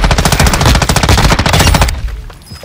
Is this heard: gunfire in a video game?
yes